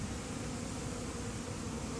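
Worker bees crowd a hive entrance, their buzzing forming a thick, unbroken drone that fills the air at close range with no voices over it.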